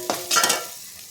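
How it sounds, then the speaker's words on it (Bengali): Roasted spice mix and vegetables stirred in a frying pan, with a couple of short scraping stirs over a soft, continuous sizzle that fades slightly; no voices. "ভাজা মশলা দিয়ে দিলাম, এগুলো নাড়বো"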